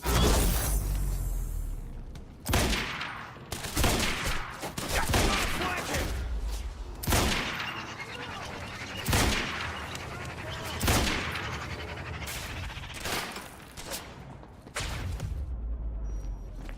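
Gunfire in the video game Quantum Break, repeated sharp bursts of shots at irregular intervals with whooshes and impacts in between, loud and close throughout.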